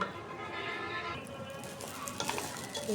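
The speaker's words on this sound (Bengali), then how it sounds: "চালটা ভেজে নিব" Rice fries in a pot for biryani, a soft sizzle under scraping stirs and a few metallic clinks of a spoon against the pot, moderately quiet and close, with a brief faint voice in the background.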